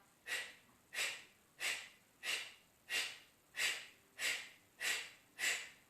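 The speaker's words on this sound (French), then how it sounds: "pour dynamiser la respiration et vous dynamiser, faire des expirations très forcées" Forceful, rhythmic exhalations through the nose in Kapalabhati yoga breathing: nine sharp puffs about one every two-thirds of a second, close and moderately loud, with no talking.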